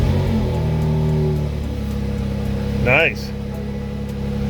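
A 2020 BMW X3M Competition runs with a steady low engine drone that dips partway through and holds, close by, while a voice briefly speaks over it.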